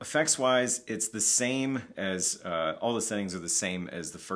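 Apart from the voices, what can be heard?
No distinct noise like a dog, phone or traffic.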